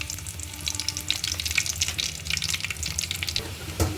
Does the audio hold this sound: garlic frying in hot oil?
yes